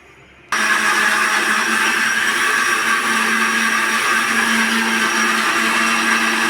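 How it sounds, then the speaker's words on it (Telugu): Mixer grinder blending soaked chana dal, green chillies, a small piece of ginger and coconut pieces, a loud steady whirring drone that starts abruptly and runs on alone. "ఈ నానబెట్టిన శనగపప్పు అండి, ఈ పచ్చిమిరపకాయలు, చిన్న అల్లం ముక్క, కొబ్బరి ముక్కలు ఇవి వేసేసుకొని మిక్సీ వేసేసుకున్నాం"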